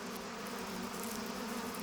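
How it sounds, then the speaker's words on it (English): A steady, low buzz of male bees in early spring hums throughout, continuous and even, like many bees droning close by with no pauses. "the air is buzzing with male bees"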